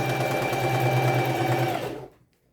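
Sewing machine running a straight stitch to attach stretched elastic onto fabric: a steady, close, loud motor whir with rapid needle rhythm for about two seconds, then it winds down and stops into silence.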